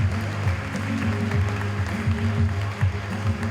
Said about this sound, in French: bienvenue et applaudissements pour sa formatrice de l'auberge communale d'Aclan